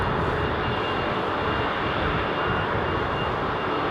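A former Continental Boeing 777 with GE90 engines spools up at London Heathrow Airport, a loud, steady, broad jet roar that holds evenly for the whole stretch, with no voices.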